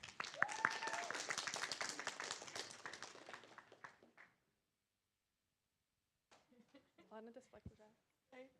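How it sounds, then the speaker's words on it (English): A crowd at a general assembly meeting applauds warmly for about four seconds, the clapping fading out into silence before a voice begins speaking. "Give them a round of applause."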